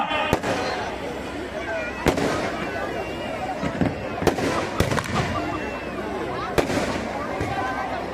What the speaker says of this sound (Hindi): सब लोग आतिशबाजी से दूर रहेंगे